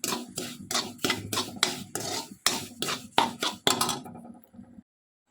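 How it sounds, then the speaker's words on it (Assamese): Semolina being fried in a pan for suji halwa, heard as a run of close, rhythmic scraping stirring strokes that stop abruptly before the end. "এতিয়া মই চুজিটো মই ভাজি আছোঁ।"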